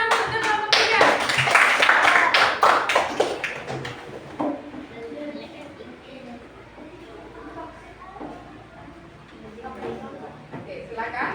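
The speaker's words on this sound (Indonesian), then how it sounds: "Beri tepuk tangan untuk kelompok 3" Group 3 gets a round of applause in an artificial intelligence coding class. Vigorous, close clapping fills the first four seconds, then fades into scattered claps and voices talking.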